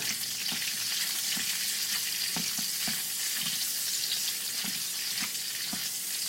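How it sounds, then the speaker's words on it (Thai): Long beans stir-fry in hot oil with a continuous dense sizzle, broken by regular soft knocks of a spatula stirring every half second or so. "ถั่วฝักยาวลงไปก่อนนะคะเอาไปผัดกับน้ำมัน"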